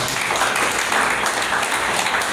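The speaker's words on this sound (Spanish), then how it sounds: "Dale un aplauso a Cristo Jesús" A congregation at an evangelical sermon claps loudly, giving a thick continuous wash of many hands with no voices over it.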